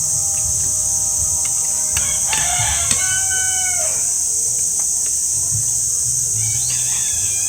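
Crickets chirp in a dense, unbroken high-pitched drone outdoors, loud and constant, while a rooster crows in the background partway through.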